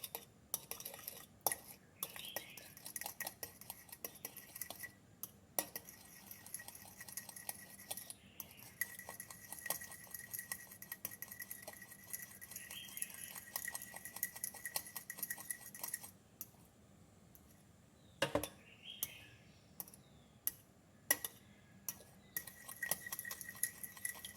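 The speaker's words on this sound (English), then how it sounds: "Almost there, just a few more seconds of whisking." An egg mixture with scallions is whisked in a bowl, giving quiet, rapid clinks and scrapes of a utensil against the dish, with a few louder taps, close and faint with no talking.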